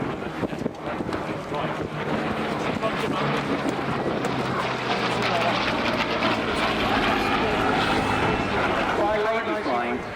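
A Hawker Hurricane configured as a bomber, the hurri-bomber, runs its piston engine in a loud steady drone with wind buffeting at an airshow, while someone talks over it.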